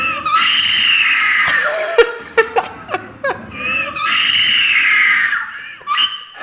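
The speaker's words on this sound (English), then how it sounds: "she screams like she just got assaulted" A woman lets out long, piercing, high-pitched screams, close and loud, broken in the middle by short sharp yelps and gasping cries before another sustained shriek and a few final yelps.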